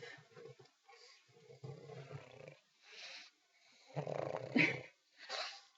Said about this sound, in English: he's like snoring in the microphone